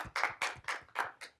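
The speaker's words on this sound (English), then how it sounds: "Let's get a round of applause." Short burst of audience applause after a career talk, five or six distinct, evenly spaced hand claps, close and fairly crisp, with no voices.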